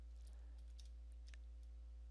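Typing on a Lenovo IdeaPad Slim 5 laptop keyboard while entering commands produces a few soft, scattered key clicks over a faint, steady electrical hum.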